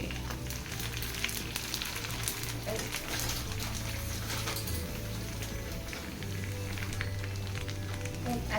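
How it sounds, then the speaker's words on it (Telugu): Food frying in oil with a busy crackling spatter of droplets over a steady hum, with voices talking over it. "అది ఫ్రై అయ్యేటప్పుడు ఆయిల్ చిందుతుందా"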